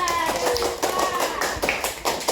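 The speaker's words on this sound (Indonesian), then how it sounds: "tepuk tangan buat Fadila." Several bursts of hand clapping ring out in a classroom to applaud a student, sounding close and uneven, with a teacher's voice faint in the background.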